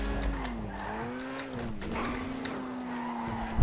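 A fast car in GTA 5 revs with a rising and falling engine whine, while tires squeal and skid continuously over a few seconds, close and fairly loud.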